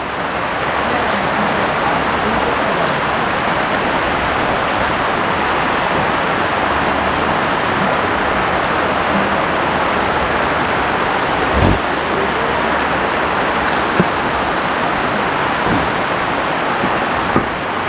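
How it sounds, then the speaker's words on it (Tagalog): Heavy typhoon rain pours down steadily, a dense, loud and unbroken hiss of downpour on surfaces throughout, with one brief thump partway through. "Lakas ng ulan."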